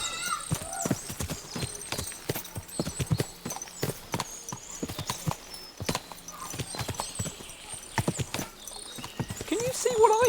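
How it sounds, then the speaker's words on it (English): Horses' hooves clip-clop in the video game Kingdom Come: Deliverance 2, a steady run of sharp hoof strikes from several horses with an occasional whinny. Talk runs through it. "What a lot of horses."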